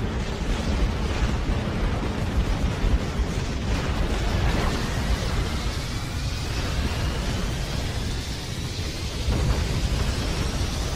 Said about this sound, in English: I'm going to select everything I have and get it to fire at that Scarab